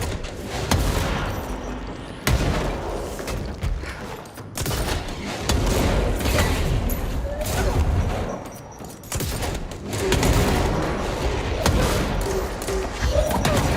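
Enemies in the video game Control blow up in a dense run of loud booms, thuds and gunfire-like bursts that last throughout, with hardly a pause.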